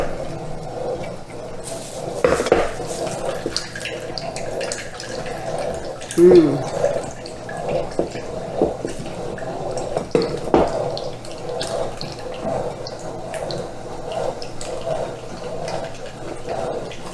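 Blackberries pushed through a hand-cranked juice strainer while canning jam give a continuous wet, squelching churn with drips and occasional louder squishes, fairly close, without speech.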